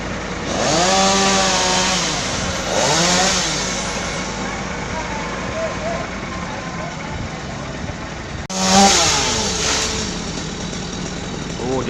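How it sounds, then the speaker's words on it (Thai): A chainsaw cutting a tree revs and drones steadily throughout, its pitch rising and falling with each surge of throttle, loud and close, with a sharp burst near the end and voices faintly beneath. "ใส่เลื่อยตัดเลยเลื่อยยนเลย"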